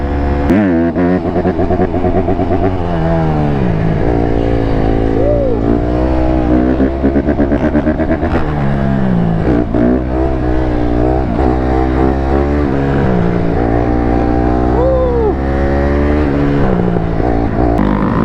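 A 150cc two-stroke dirt bike revs and rides continuously nearby, its engine pitch rising and falling through repeated throttle bursts and gear changes, loud and unbroken throughout.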